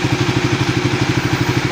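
An overhauled Raider 150 Fi motorcycle engine runs at a steady idle, a loud, close, even rhythmic chugging with no voices over it.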